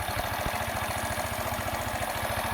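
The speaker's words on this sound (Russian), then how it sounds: "Появился уверенный холостой ход." A carburetted engine with a fault that makes it backfire through the carburetor and stall under throttle now idles steadily, a close, even rapid chugging pulse with a low mechanical hum and no voices.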